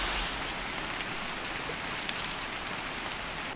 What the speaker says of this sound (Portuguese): Ai, a chuva tá alta